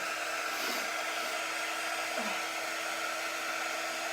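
A handheld quick dry heat tool blows steadily on a mitten-themed 3D winter craft piece, giving a continuous close, loud whirring airflow hiss that holds level from start to finish with no talking.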